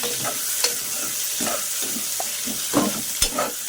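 Green chillies and onion sizzle in hot oil for chicken biryani, a quiet steady fry broken by repeated stirring scrapes and a few sharp clinks of the spoon against the pan.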